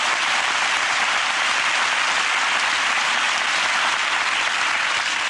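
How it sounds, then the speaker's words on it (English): A studio audience at a chat show bursts into loud, dense applause, a continuous wall of clapping hands that holds steady and close throughout the short stretch. "I do think it's worthy of a round of applause"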